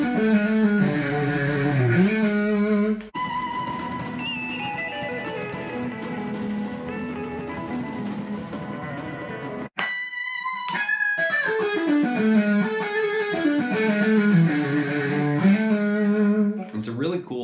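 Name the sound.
guitar playing melodic lick with half step bend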